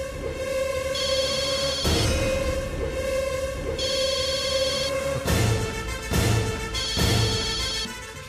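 A telephone rings with an incoming call, loud and close, repeating in regular bursts of ringing for several cycles with no one talking.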